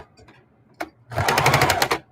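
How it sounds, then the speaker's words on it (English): A sewing machine stitching a 5/8 inch seam along the side of a collage tote bag. A click comes first, then a close, steady, fast run of stitching for about a second. "So now I'm sewing a 5/8 inch seam on the other side of the"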